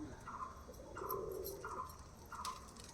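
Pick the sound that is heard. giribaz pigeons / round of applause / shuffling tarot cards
giribaz pigeons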